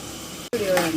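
Chopped onions dropped into hot oil in a pan for chicken biryani, breaking into a fresh sizzle after a brief silent gap, loud and close.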